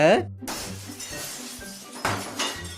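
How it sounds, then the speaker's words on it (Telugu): A sharp crash of an ice-crusted glass breaking comes after a short vocal sound, followed by tinkling debris and low hum, with another smash near the end. "గ్లాస్ మీద గడ్డగట్టిన ఐస్ ని కరిగిద్దామని గ్లాస్ నే బద్దలు కొట్టేశారు"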